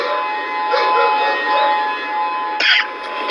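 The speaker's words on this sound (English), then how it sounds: "Emergency sirens blaring in Honolulu yesterday." Emergency sirens blare across Honolulu ahead of a hurricane, a steady wailing tone holding over distant outdoor noise, with a brief louder burst near the end.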